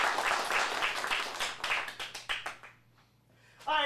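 Audience at a teen showcase breaks into applause, dense at first and then thinning into scattered individual claps that fade out, before a voice cuts in at the end.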